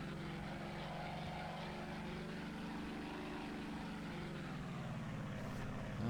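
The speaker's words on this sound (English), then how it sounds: "See if that plane's still among us." Propeller aircraft engine in the submarine game Silent Hunter 3, a steady droning hum with a throbbing rotor buzz that holds even and shifts slightly in pitch near the end, continuous and moderately distant.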